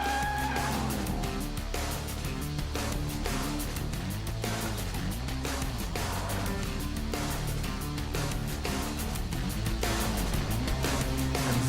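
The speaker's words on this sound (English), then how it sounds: "exploring the limits of Jaguar's flagship coupe around the Nordschleife" A Jaguar XK coupe in its final testing phase is driven hard at the limit around the Nordschleife, with a continuous loud engine roar rising and falling through gear changes and occasional tire squeal.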